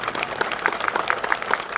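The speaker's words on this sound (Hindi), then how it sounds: "ताली आधे लोगों ने बजाई," Crowd applause at Chief Minister Jai Ram Thakur's public rally in Dalhousie, a short burst of scattered, moderately loud clapping that carries steadily for about two seconds with no voices over it.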